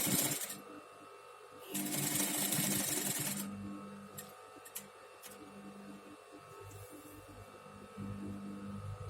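A sewing machine stitches yellow and blue patchwork fabric pieces together, with two sustained whirring runs of motor buzz separated by brief pauses, soft clicks and handling noise, close but fairly quiet.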